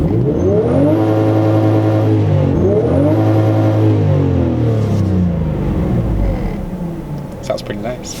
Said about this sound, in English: Let me let you guys hear what this engine sounds like from the inside.